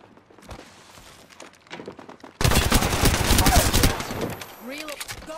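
Rapid gunfire in Apex Legends erupts halfway through and runs loud and dense to the end, bursts crowding together over game effects, with quieter voices and clatter before it starts.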